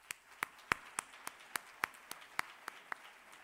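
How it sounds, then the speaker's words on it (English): A small number of conference attendees at an international brain health meeting clap sparsely, distinct individual claps spaced out in a loose rhythm against a quiet room. "I would like to invite you to give a clap to these 4 wonderful people."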